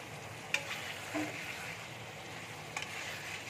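Rohu fish curry with torn green chillies simmers and fries in a pan, giving a steady close sizzle with a few faint clinks of a spoon.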